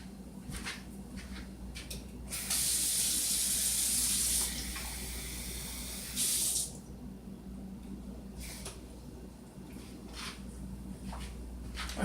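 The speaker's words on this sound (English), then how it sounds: "I'm going to add a 1/2 cup of water to each" A tap runs water into a cup in a kitchen, a steady hissing stream that starts, stops briefly and returns, with small clatters of items being moved around it.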